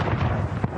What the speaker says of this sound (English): followed by the firing of a single cannon, signaling the start of the service